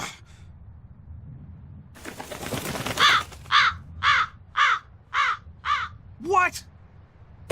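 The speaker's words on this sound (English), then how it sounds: "That crow just flew off with the coin!" In a Tales of Berseria cutscene, a crow lets out a run of about seven loud, evenly spaced caws close by, following a brief rustle of wings, with a short voiced gasp at the end.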